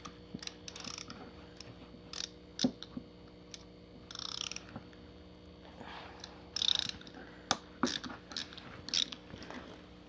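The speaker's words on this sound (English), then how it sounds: "I can hear the ratcheting there." A Kobalt ratchet screwdriver clicks and ratchets while backing out fasteners on a magneto, a series of sharp close clicks in irregular bursts over a steady low mechanical hum, with no talk.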